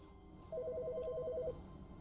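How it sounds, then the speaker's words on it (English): A phone rings in The Stanley Parable with a single steady electronic trill of rapid pulsing tones lasting about a second, clear and alone over a quiet background. "My phone's ringing."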